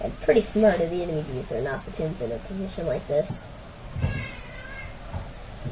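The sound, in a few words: cats meowing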